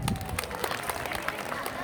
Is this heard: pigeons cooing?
no